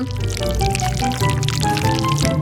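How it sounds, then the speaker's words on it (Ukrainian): Honey poured straight into the middle of a layered cake during a cooking challenge, a short, close, steady trickling flow lasting a couple of seconds. "А тепер мені знадобиться мед. Ну-ка. Так, відкрився. Заливаємо прямо всерединку."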